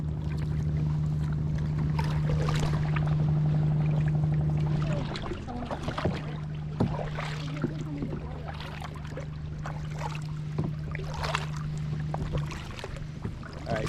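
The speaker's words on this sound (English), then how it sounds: "we are in Halong Bay and we are currently kayaking" Kayak paddling on open water in Halong Bay, a steady wash of water and hull noise with a low droning hum running through most of the stretch and faint irregular splashes, no talk.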